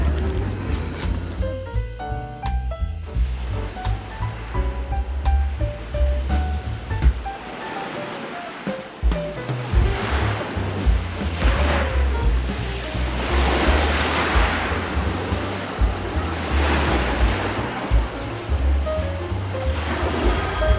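Sea waves surge and wash continuously out at sea, a loud, close, broad rushing surf that swells and recedes in uneven pulses with no voices.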